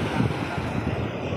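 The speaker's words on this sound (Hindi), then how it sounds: "और ये आ रहा समंदर" Sea waves break on the shore at a Chennai beach, a steady broadband wash of surf mixed with wind rumbling on the microphone, continuous and fairly loud with no voices.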